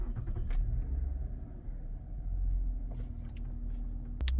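A 2013-2015 Lexus ES350 engine turns over and settles into a smooth, low idle, a steady close rumble with a faint hum and a few light clicks.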